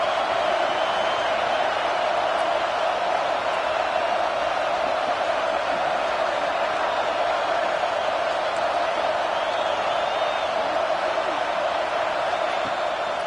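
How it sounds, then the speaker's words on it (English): Home football crowd at a Texas A&M at Nebraska game roaring steadily and loudly, a dense continuous wall of cheering and whooping that never lets up. "How nice is it to have the home crowd going absolutely bananas?"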